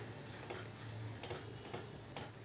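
Desiccated coconut is stirred in a pan, giving a faint, low scraping with soft rhythmic ticks of the spoon against the metal at a gentle pace, with no voice heard.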